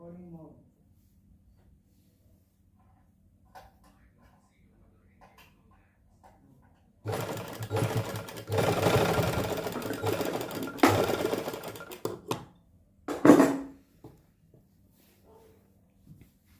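A sewing machine stitching pleats into a salwar runs in a steady rattling stretch of about five seconds, then gives one short final burst after a brief pause. Quiet gaps surround it.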